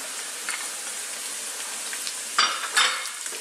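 Onions sizzle steadily in a pan over high heat, with a few louder scrapes and stirs near the end and no talking.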